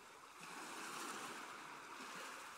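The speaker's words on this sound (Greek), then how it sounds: "Θάλασσα." Sea waves at a summer beach, a soft continuous wash of surf with light wind, faint and steady, with no voices.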